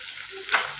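Chicken frying in hot oil in a home kitchen, giving a short burst of crackling sizzle that swells briefly and fades over a steady background hiss.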